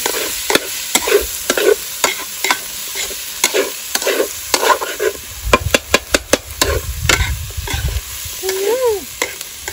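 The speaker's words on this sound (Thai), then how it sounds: "ผัดไปเรื่อยๆจนว่ากบสุกครับ" Scraping stir-fry strokes and sizzling as frog meat cooks with curry spices in a hot pan, a spatula clattering against metal in irregular bursts, close by and without talk.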